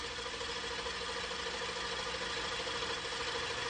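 A Mazda K8 engine with sequential fuel injection idles steadily, a continuous even hum with a faint regular pulse, close and unchanging throughout.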